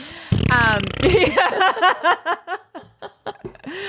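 A voice imitates a fart with a buzzy, sputtering blurt, quickly followed by bursts of close, loud laughter.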